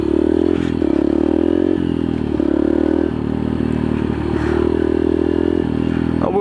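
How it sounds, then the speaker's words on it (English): A 50cc pit bike engine revs steadily and loudly up close, its buzzing drone holding with small dips in pitch, plus some scraping and clattering along the way. "This is a 50cc motorcycle"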